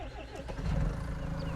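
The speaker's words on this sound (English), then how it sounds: "we're going to grab our mountain tractor here and get it set up for mowing" A mountain tractor engine starts in Farming Simulator 19, a brief cranking that catches and settles into a steady, rumbling idle, fairly close and moderately loud.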